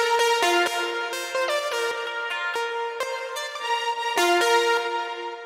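Mid-range synth lead layers in an FL Studio electronic dance production play a plucky, rhythmic melody of sharp repeated notes, bright and harmonically rich, clean and loud with nothing else over it.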